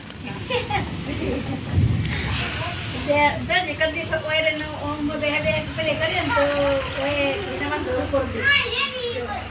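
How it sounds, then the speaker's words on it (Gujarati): Heavy monsoon rain with thunder, a rumbling boom early on under a steady wash of rain, while children chatter and call out over it. "જબ્બાનો વરસાદ ચાલુ થઈ ગયો"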